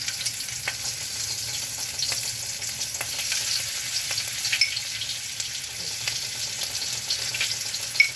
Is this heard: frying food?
yes